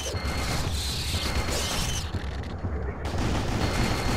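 Dense, continuous gunfire from the video game Turok: Dinosaur Hunter, loud and close, with crashing impacts and a brief dip before the shooting resumes. Speech overlaps faintly.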